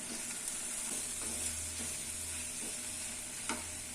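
Curry leaves and grated coconut sauté in a hot pan for a thuvayal, a steady close sizzle with occasional light scrapes of stirring and no talking.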